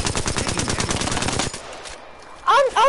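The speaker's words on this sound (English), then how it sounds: "I'm shooting." Rapid automatic gunfire in the Apex Legends video game rattles loudly for over a second, then drops away, followed by a brief electronic game sound.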